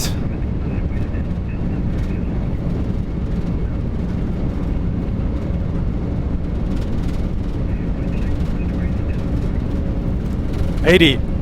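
A Lufthansa Cargo MD-11F's jet engines run at takeoff thrust on its retirement departure from New York JFK, a steady, dense roar heard from inside the cockpit without easing, with a brief higher sweep near the end.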